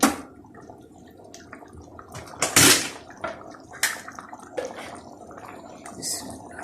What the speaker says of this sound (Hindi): अब मैं 2 चम्मच घी के डालूँ।